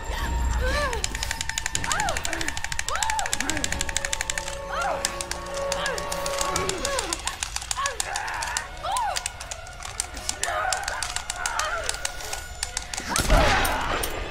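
Rapid bursts of gunfire in the Tomb Raider reboot video game, a dense crackling run of shots over several seconds mixed with game sounds, while someone talks throughout.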